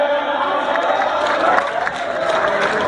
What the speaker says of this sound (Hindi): क्या तालियां बहुत कम मिल रही है